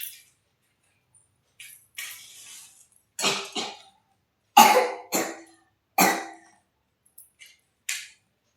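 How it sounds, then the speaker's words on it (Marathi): A person coughs repeatedly in short separate bursts, single and doubled coughs spread across several seconds with quiet gaps between them, close and fairly loud, with no talking. "खोकला येतो."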